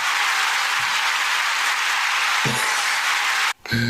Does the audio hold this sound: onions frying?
no